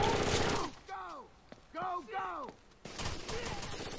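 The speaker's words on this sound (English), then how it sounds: "Oh, I'm getting shot at." Gunfire in Rainbow Six Vegas 2 crackles in short bursts, a loud opening volley, then quieter scattered shots and a final dense burst, with a voice talking over parts of it.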